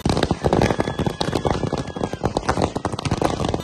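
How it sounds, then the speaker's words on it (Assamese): Firecrackers burst in rapid, overlapping cracks and pops at a tea garden celebration held by Adivasi residents marking the start of work paving their main road, a loud, continuous crackling barrage. "চাহ বাগানত ফটকা ফুটাই আনন্দ আদিবাসী ৰাইজৰ"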